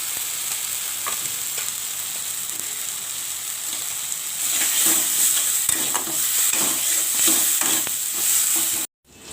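Spice paste made with ground spring onion leaves sizzles in a pan as it is stirred, a steady close frying hiss with scraping stir strokes that grows louder midway before cutting off abruptly near the end.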